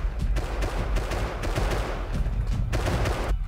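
Gunfire in the survival game Rust, a dense string of rapid shots and bursts, loud and close, cracking over a rumbling low background with brief gaps between volleys.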